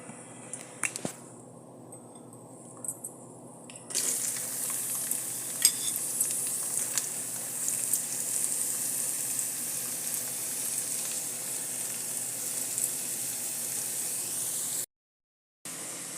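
Onions sautéing in hot oil with whole spices and cashews for an egg stew, heard as a steady, bright frying hiss. The hiss jumps louder partway through as the onions go in, with a few faint taps of a utensil and no talking.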